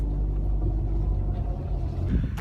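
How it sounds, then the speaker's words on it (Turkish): A car rolls slowly while being parked, its engine giving a low, steady rumble close by with a slight rise in roughness near the end of the brief stretch. "Şöyle arabayı bir yere park edeyim"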